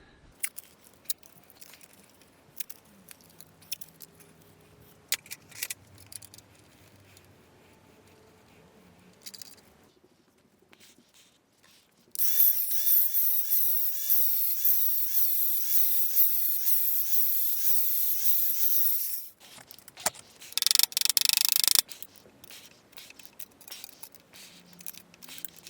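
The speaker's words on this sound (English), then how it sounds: "I'm going to grind this off and reposition it." Angle grinder cutting off a GT28 turbo wastegate bracket on a Nissan Z32 300ZX, a loud, harsh, high-pitched whine lasting several seconds, then a shorter second burst after quieter handling and clatter.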